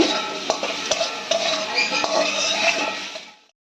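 Potatoes frying in a pan with onions, heard as a close, dense sizzle with several sharp spatula knocks and scrapes against the pan. The sound cuts off abruptly at the end.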